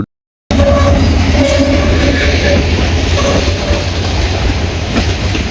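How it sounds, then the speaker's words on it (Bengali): Two trains roll through Gaibandha railway station together, a loud, close, continuous rumble with rhythmic clanking from the wagons that goes on steadily after a short silent start. "একসঙ্গে দুইটা ট্রেন যাচ্ছে আমাদের Gaibandha rail station, rail station থেকে দুইটা ট্রেন যাচ্ছে।"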